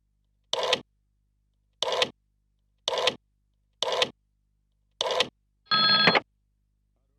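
A telephone rings through to the person being called: five evenly spaced short ringing bursts, then a longer steady tone. It sounds clean and isolated, with silence between the rings and no talk.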